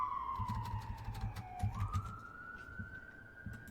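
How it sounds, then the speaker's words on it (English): A siren's tone slowly glides down then climbs and holds steady, heard at a moderate distance over a low rumbling engine and traffic noise. "Yeah, sirens."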